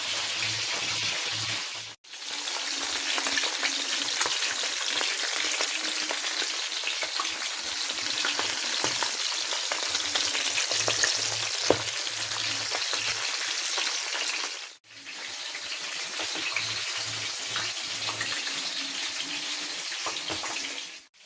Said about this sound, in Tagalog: wait until the fish brown and cooked